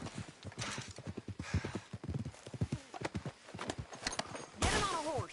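Rhythmic horse hooves clopping steadily for several seconds in the video game Red Dead Redemption 2, followed near the end by a loud, close horse whinny.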